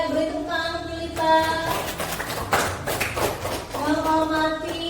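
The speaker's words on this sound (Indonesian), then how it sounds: "Beri tepuk tangan untuk Yulita." A classroom of students claps for a classmate, a brief round of mixed hand claps and taps under children's voices and a teacher talking, with some musical tones or sung notes at the start and end.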